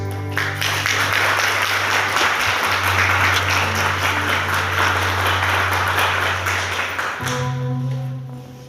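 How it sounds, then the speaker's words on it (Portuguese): A church congregation at an evening service applauds with full force, a loud, dense wash of clapping that sustains for several seconds over a steady low keyboard drone, then fades as the music shifts. "aplauda com toda a força"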